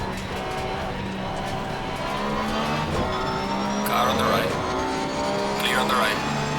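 Race cars in the ACC sim-racing game at the Nürburgring, GT3-class Porsche field, roar past in a steady engine drone with a rising whoosh as two cars go by, a driver talking over the sound.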